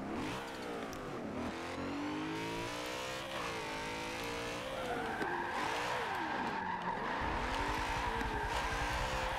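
A BMW E92 drift car engine revs hard with a whining turbo and squealing tires, the rising and falling drone continuous and loud throughout, with no talking.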